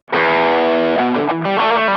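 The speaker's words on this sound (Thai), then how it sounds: "ก็เดี๋ยวลองฟังเสียงแตกกันดูครั" A heavily distorted James Tyler Studio Elite electric guitar chord rings out loud and sustained, then shifts to a couple of other notes.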